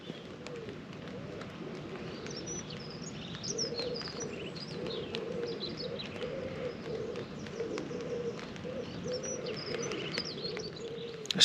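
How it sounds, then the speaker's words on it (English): A busy dawn chorus of many songbirds chirping and trilling, with wood pigeons cooing steadily underneath, continuous and fairly close. "there's songbirds, there's wood pigeon, there's been geese, there's been pheasant."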